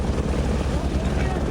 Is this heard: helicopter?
yes